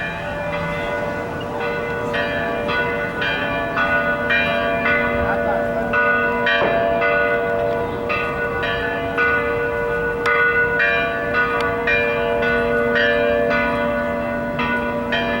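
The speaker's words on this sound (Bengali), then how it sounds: "এই চার্চের ঘন্টা বাজছে এখন।" Bells in a church bell tower ring out in a steady repeating pattern of clear resonant strikes, heard outdoors across a square near an opera house, with faint background voices.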